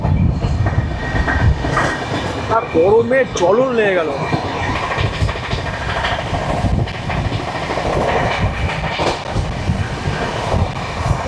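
Falaknuma Express train running from Howrah toward Hyderabad past Jaleswar station in Odisha, with continuous loud rattling and rumbling of the carriages and a brief voice speaking early on.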